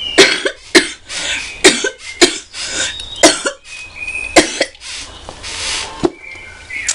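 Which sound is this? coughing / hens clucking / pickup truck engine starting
coughing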